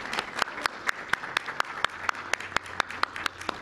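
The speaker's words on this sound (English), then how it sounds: "Can we just give a round of applause to our prayer chaplains?" A church congregation gives a light round of applause for the prayer chaplains, a thin scattering of individual hand claps in an uneven patter, moderately quiet against a hushed room.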